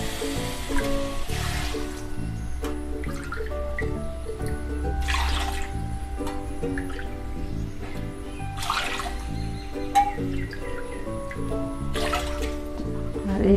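Water pours in several separate splashing bursts into a kadai holding sugar for a chom chom syrup, heard over a steady tonal background.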